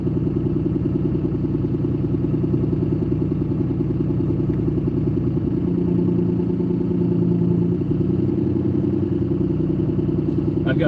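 A Lamborghini Diablo engine runs steadily while driving, a loud, dense mechanical drone with constant low rumble that barely changes pitch throughout.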